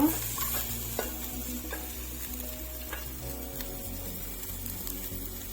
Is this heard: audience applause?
no